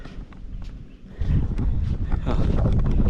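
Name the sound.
strong wind on a high viewpoint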